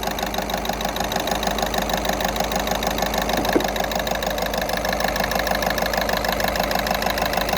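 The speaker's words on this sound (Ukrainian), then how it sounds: "І ось так працює двигун, водно, який його трусить." A Volkswagen 1.6 TDI diesel engine idles roughly and shakes, giving a close, loud, steady knocking clatter with an even rapid rhythm and a brief sharp tick midway, no voices.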